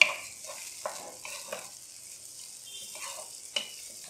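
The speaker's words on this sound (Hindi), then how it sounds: "ऑयल को थोड़ा सा गर्म होने देंगे, साथ ही इसमें कटे हुए टमाटर डाल देंगे। टमाटरों को हल्का सा हम फ्राई करेंगे।" Chopped tomatoes fry lightly in warmed oil for chicken karahi, giving a soft, faint sizzle broken by a few scattered crackles and spoon clinks.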